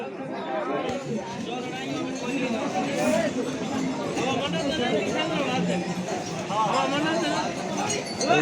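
Dense chatter of a crowd of pilgrims on the Kedarnath trek, many overlapping voices forming a steady babble with occasional faint clinks, close and continuous throughout.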